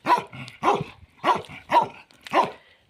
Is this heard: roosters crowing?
no